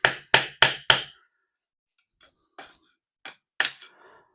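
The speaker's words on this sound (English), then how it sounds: "Let me get a hammer and a screwdriver and see." A hammer drives a screwdriver against a Ford C4 transmission pump. Four sharp, evenly spaced metallic blows come close together, followed by a few lighter, scattered taps.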